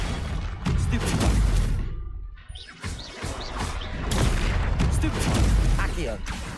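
Spell effects from a Stupefy stunning charm cast in Hogwarts Legacy, loud booming impacts and crackling blasts in game combat, layered with ongoing speech and other spell noise.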